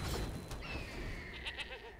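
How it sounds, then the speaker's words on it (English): The Stormwild Capridor card in a digital card game gives a short, close goat-like bleat that wavers and trails off, with a brief thud and a thin tone under it. "the Stormwild Caprador makes both a bird and a goat sound, as indeed it should"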